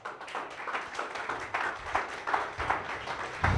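A church congregation applauds in steady, close clapping that runs throughout, moderately loud, with no talk over it.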